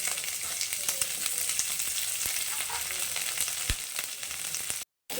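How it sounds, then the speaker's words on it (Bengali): Thick, long-sliced onions fry with garlic in hot oil, a dense, close crackling sizzle with scattered pops and small spatters, cut off by a brief moment of silence near the end. "পেঁয়াজটা একটু হালকা ভেজে নেবো"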